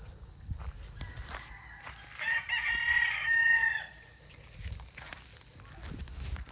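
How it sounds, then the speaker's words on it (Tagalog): A rooster crows at a distance over a steady outdoor hum in a rural countryside yard, with scattered clucks and light shuffling around it. "Ito mga alaga ko namang manok dito."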